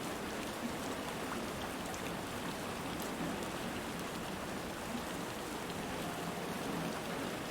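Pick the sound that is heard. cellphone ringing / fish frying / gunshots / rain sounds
rain sounds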